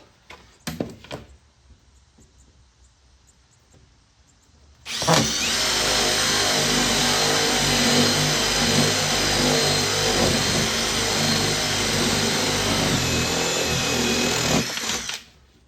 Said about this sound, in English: Drill bit's a little dull.